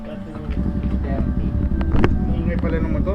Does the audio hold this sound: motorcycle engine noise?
yes